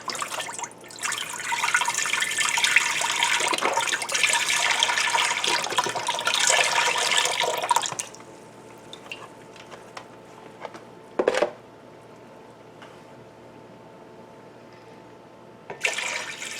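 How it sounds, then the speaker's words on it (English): Thirty-two ounces of vegetable stock pours steadily into a large stock pot for black bean soup, a loud, continuous splashing gush lasting several seconds, then quiet with a single brief knock and a short burst of movement near the end. "I'm going to start by putting in my vegetable stock"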